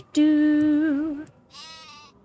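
Sheep in the Nancy Drew: The Haunting of Castle Malloy video game give two clear bleats: a long, wavering cry followed by a shorter one after a brief pause, heard on their own.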